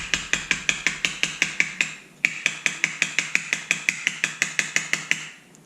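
A kydex knife sheath being tapped repeatedly to knock debris out, giving a fast, even series of sharp clacks, about four per second, with a short pause partway through, close and crisp with no talk.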